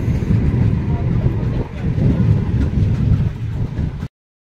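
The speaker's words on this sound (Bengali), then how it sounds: "ট্রেন চলে এসছে, অনেকক্ষণ ধরে অপেক্ষা করছি।" A train pulls into Debagram railway station with a heavy, continuous low rumble that runs steadily for several seconds before it cuts off abruptly, while people wait and talk on the platform.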